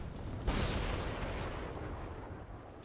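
A combined fire and electric spell bursts in the video game Spellbreak, with a sharp crack near the half-second mark that trails into a dense, rumbling roar lasting to the end.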